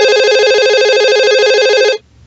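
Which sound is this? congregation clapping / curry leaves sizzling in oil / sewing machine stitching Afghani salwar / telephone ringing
telephone ringing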